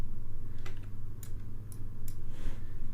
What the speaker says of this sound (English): press U on the keyboard